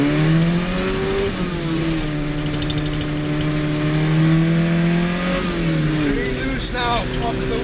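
A project car's engine revs and climbs through gears as it drives off after sitting over winter, loud and close with rising and falling engine pitch, and a voice talks over it.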